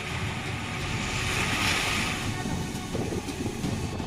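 A hut-like house in Mangalore, Karnataka collapsing into a fast-flowing, flooded river during a cyclone, heard as a steady loud roar of rushing water with broad noisy turbulence throughout.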